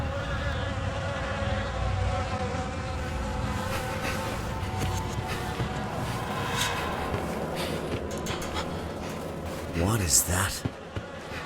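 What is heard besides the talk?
swarm of buzzing insects in the video game The Fidelio Incident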